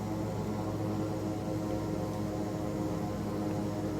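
Steady, loud drone of a Black Square Bonanza turboprop engine held at 2000 RPM in a flight simulator game, a constant broadband roar with no break and no voices.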